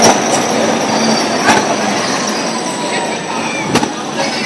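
A train rolls past with a steady broadband rumble and a high metallic wheel squeal held throughout, plus a few sharp clanks.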